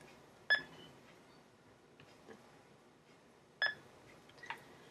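An Aceco radio-frequency bug scanner detector gives two short electronic beep bursts a few seconds apart, with faint quieter chirps between them, in a quiet room.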